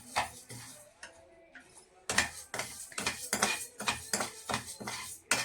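Half a cup of moong dal is lightly roasted in a pan, stirred with a utensil that gives rapid scraping and clattering strokes close by, with a quieter stretch at the start.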